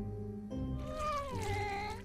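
A cartoon kitten in a Teenage Mutant Ninja Turtles episode gives a loud, close, drawn-out meow that rises and then slides downward, heard alone without talk.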